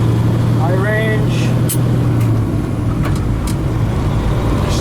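A heavy truck engine runs loud and close inside the cab while a driver shifts the 13-speed transmission back into high range, the steady rumble wavering as a voice talks over it.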